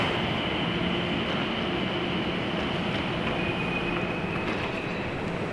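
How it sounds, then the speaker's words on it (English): A train rumbles steadily into a station with broadband roar and a faint high wheel whine, continuous and fairly loud, with no talk. "The train is arriving."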